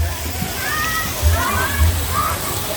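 People splash and play in the Phetchaburi River at Kaeng Krachan on a crowded holiday. Close, steady sloshing and splashing water runs throughout, with thumping bursts and voices over it.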